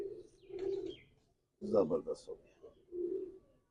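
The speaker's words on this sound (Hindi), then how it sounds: "जबरदस्त कबूतर देखे हैं सियालकोटियों में" Pigeons, prized fancy birds kept in Sialkot, coo in low throaty bursts at close range, two soft rolling calls framing a louder burst, with someone speaking over part of it.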